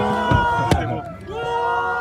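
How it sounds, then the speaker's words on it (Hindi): A large crowd gathers around a roadside dhaba in Assam, a dense close babble of many voices with shouts and cheering rising over it. "यहाँ बहुत भयंकर भीड़ हो रही है भाई"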